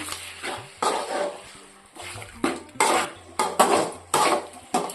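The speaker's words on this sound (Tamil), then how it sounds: "இப்போ நம்ம சேர்த்த உப்பை சிக்கன் கூட நல்லா கலந்து விட்டுருவோம்" Chicken being stirred with salt in a cooking pan: a utensil scrapes and clatters against the metal in repeated bursts, close and fairly loud, with short pauses between strokes.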